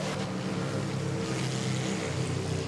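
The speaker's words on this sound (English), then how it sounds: "Starting his engines." An airliner's jet engines spool up at Manila airport, a steady broad roar with a low rumble that holds level throughout, moderately distant with no voices.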